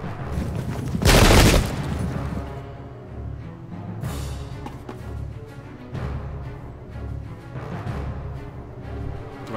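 A musket volley in the video game Pike and Shot erupts as one loud, dense crackling burst, then a few scattered lighter shots and booms follow at a distance.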